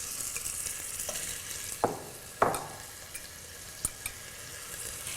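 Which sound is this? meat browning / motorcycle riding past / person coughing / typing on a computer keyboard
meat browning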